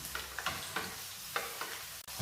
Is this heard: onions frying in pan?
yes